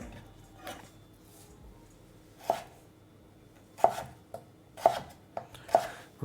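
A knife cuts potatoes into fries on a cutting board, giving crisp, isolated chops at uneven intervals, several in quick succession toward the end, close and alone in a quiet kitchen.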